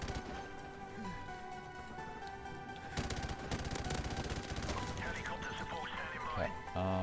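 Gunfire in the video game Modern Warfare Remastered: bursts of rapid automatic shots come in after a few seconds over background game sound and music, with a player talking over them.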